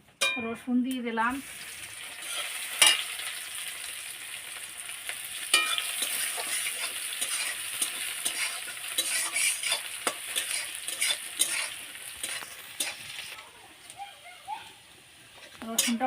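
Garlic goes into hot oil already holding cumin for a desi chicken curry, producing a steady sizzle with scattered crackles and utensil scrapes, while a voice speaks briefly at the start.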